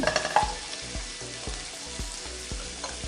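Spices frying in a pan for beans egg curry: a steady sizzle runs throughout, punctuated by regular low knocks of a spoon stirring against the pan, with no voices.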